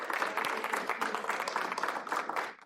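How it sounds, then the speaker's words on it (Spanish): A church congregation applauds for the Lord, producing a dense, continuous burst of hand clapping at moderate distance that lasts a couple of seconds before tapering off. "Dale un aplauso al Señor."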